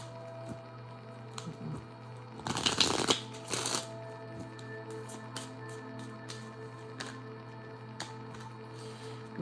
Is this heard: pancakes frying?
no